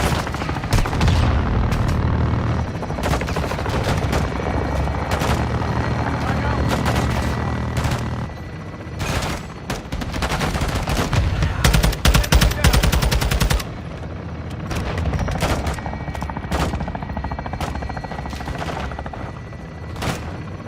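Heavy air support gunfire in Call of Duty: Modern Warfare II roars almost nonstop, with loud rattling bursts and booms layered over a dense battle soundscape that peaks around the midpoint.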